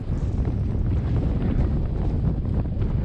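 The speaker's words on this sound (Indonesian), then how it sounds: "Sesekali kami harus berlindung di antara bebatuan untuk menghindari terpaan angin" Gusting wind sweeps over the rocky upper slopes of Mount Agung and buffets the microphone in a continuous, fairly loud rushing noise with no one speaking.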